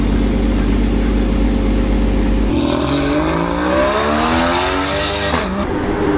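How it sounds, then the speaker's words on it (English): A Porsche GT4 on a racetrack, a loud close engine drone that shifts into rising and falling revs as the car accelerates and passes, with no voices. "take out the Porsche GT4"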